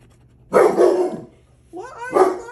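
A dog barks twice, loud and close, the second bark a rising yelp-like call after a short pause.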